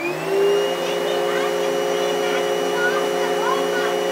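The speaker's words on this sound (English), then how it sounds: "we're turning the vacuum on and off" A vacuum cleaner hums steadily and loudly with a droning motor whine throughout, with no clear stop or restart, while people talk softly over it.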